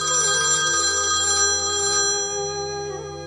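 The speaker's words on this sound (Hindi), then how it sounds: "किसका फोन है?" A telephone rings steadily and fairly loud in a home setting, its ringtone tones sustained through the whole stretch with a slight shift partway, with no talking over it.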